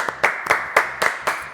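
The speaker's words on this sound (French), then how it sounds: "Donc on applaudit Mathieu et Jada Wire." A few people clap for performers at a theatre coaching session, sparse sharp handclaps in an irregular rhythm, close and fairly loud with no talk over them.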